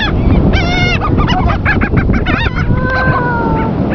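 Seabirds on a beach squawk and honk loudly while being fed crackers, a dense overlapping chorus of harsh nasal calls, close and continuous throughout with no speech.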